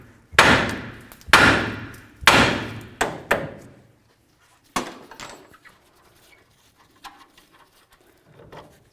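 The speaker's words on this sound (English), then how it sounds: "Now we're going to bonk right along here to separate the tie rod from the knuckle." A hammer strikes the steering knuckle of a 2006-08 Dodge RAM to separate the tie rod, several loud metallic bangs in quick succession, then fainter taps and clinks nearby.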